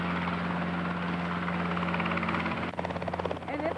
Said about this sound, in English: Something was landing outside. You can hear that.